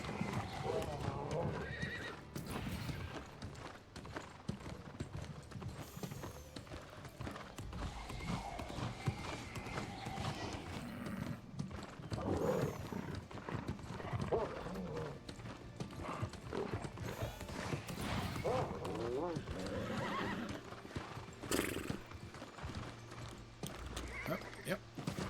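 Galloping horses race in the video game New World: continuous drumming hooves, neighs and creaking tack under occasional talk, with mechanical game noises mixed in.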